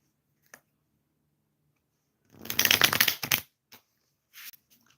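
A quick riffle of tarot cards being shuffled on a lap, a single close burst of flapping, followed by a few soft taps and clicks in an otherwise quiet space.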